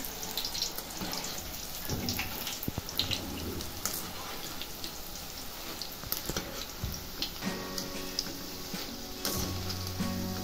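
Continuous sizzling and bubbling of boondi frying in hot oil, a dense crackling hiss with scattered pops, steady throughout with no voices.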